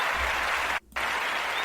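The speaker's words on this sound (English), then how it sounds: "Once again, hand of applause for Zack Snyder." A crowd applauds loudly and continuously, a dense wash of clapping broken by a brief drop-out near the middle before resuming at full strength.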